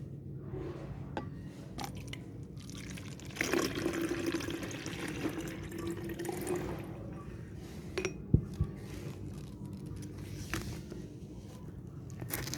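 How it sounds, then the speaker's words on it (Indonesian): Water is poured from a glass back into a bottle, making a continuous trickling, gurgling stream with a few clinks and drips along the way, moderately close and without speech. "Kemudian tuang kembali air di dalam gelas ke dalam botol."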